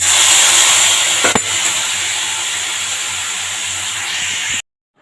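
Dal is poured slowly into a hot tempering of panch phoron, dried red chilli and peanuts, giving a loud, steady broadband hiss and sizzle with a sharp crackle about a third of the way in, then it cuts off to silence near the end.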